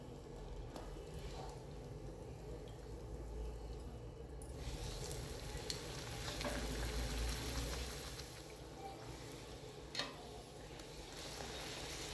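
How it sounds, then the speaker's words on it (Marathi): A peas puri deep-frying in hot oil gives off a faint, steady bubbling sizzle that swells slightly in the middle. There is no speech. "एक बाजून चांगली अशी तळली गेली, चांगला असा रंग आला की मगच ती उलटायची आणि दुसऱ्या बाजून चांगली अशी तळून घ्यायची"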